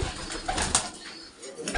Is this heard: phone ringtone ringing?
no